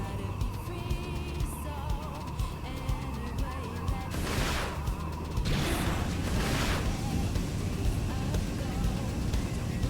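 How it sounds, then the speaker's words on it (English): A bird call in Xenoblade Chronicles X: Definitive Edition chirps faintly within dense game sound, under steady music and rumbling ambience with a few sharp bursts of combat noise. "Feel like I'm hearing a bird somewhere."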